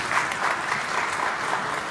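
Steady applause from a crowd welcoming a prime minister at a conference in Nioro, Mali, dense even clapping throughout with no pauses, fairly loud and close.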